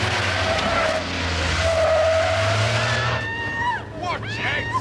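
A security van pulls away with tyres skidding and squealing on a road, loud engine noise and rising squeals close by, with sirens or screams in the later part.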